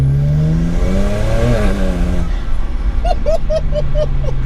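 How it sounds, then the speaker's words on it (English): A 539 bhp BMW 335i Touring pulling in second gear through a tunnel, its exhaust droning loud and reverberant as revs rise and shift, with a few short squeaky chirps near the end. "We'll go 2nd gear for this one, I think, because we need to hear the exhaust"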